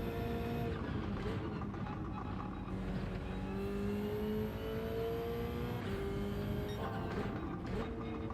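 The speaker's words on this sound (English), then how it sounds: "I quite like this car. It's revvy, isn't it?" A race car engine in the PF500 racing video game holds a steady, high revving drone with gear changes and rising pitch sweeps, continuous and close throughout.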